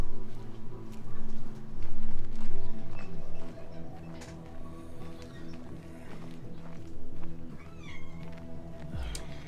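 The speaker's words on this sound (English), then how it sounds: "And we have a kitty now attacking my leg." A cat meows repeatedly up close inside the video game State of Decay 2, with several drawn-out, rising calls over a layered game soundtrack and shuffling footsteps, ending in a low thud.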